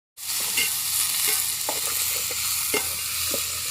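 Broad beans with turmeric stir-frying in a pan over a village wood-fired stove give a steady loud sizzle, with scattered scrapes and knocks of the stirring spoon throughout.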